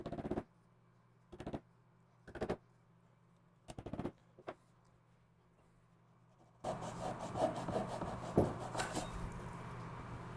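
A hand saw cutting wood for a planter box makes short rasping bursts separated by quiet gaps, then a longer continuous stretch of rapid back-and-forth strokes, close up.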